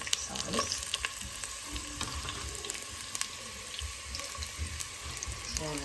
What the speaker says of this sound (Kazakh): Жуамызды енді жақсылап қуырып алып